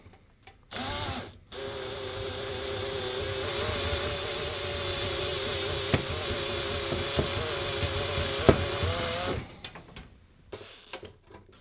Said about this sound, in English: time to drill some rivets and take a look inside that power supply